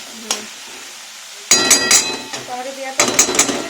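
A metal lid goes onto a pot of biryani masala cooking with tomatoes, making close, bright clanks and rattling clinks in two short clusters, after a single earlier tap.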